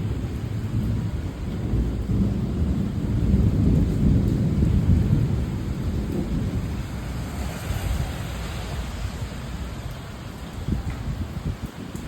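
Rain falls steadily on a rainy evening while deep thunder rolls through, swelling to a heavy rumble midway before easing back into the constant wash of rainfall; no one talks.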